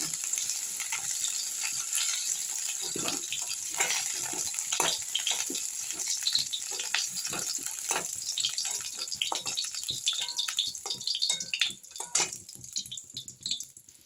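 Potato pieces fry in hot oil with a continuous hiss and crackle, punctuated by occasional stirring clatter, steady and fairly faint.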